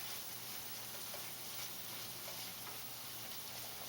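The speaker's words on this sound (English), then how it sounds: "You want to simmer this on, I guess, medium-low heat with the olive oil and the butter and the garlic" Garlic simmers over medium-low heat in olive oil and butter in a cast iron skillet, giving a faint, steady crackling sizzle with soft scattered pops and a low background hum.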